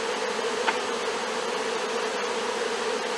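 A honey bee swarm hums steadily inside a hive, a dense, even drone of many wings that holds at a constant level throughout with no voices.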